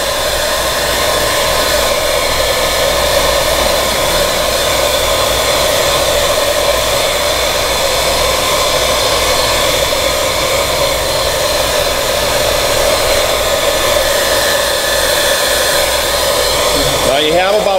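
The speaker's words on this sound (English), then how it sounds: "Get the other hair dryer going over there." A hair dryer blows continuously at a loud, steady whoosh with a constant whine, running close by without pause, during metallic epoxy countertop work.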